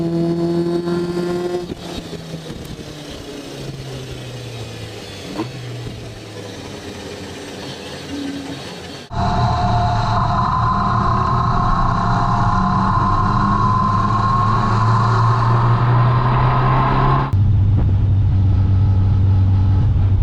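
Lotus Challenge race cars at the Aldo Scribante circuit, engines droning and shifting pitch as they pass, quieter at first and then a loud, sustained near engine roar that cuts abruptly twice.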